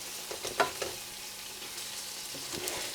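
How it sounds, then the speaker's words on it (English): Scallops fry with onions in a pan while being stirred: a faint, low sizzle with a few light scrapes of a utensil, close and quiet, with no talking. "Stir them around with the onions and everything."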